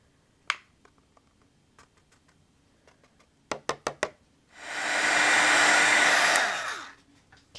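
Heat tool blows a steady, loud broadband whoosh for a few seconds, melting Alabaster embossing powder from Burtis Monroe on a holiday card, after some light taps and clicks.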